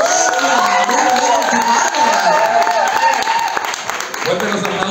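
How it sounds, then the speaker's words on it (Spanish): A studio audience at a televised casting show claps for a contestant, with loud cheering and shouted voices layered over the clapping throughout. "Fuerte los aplausos para Nidia Visconti."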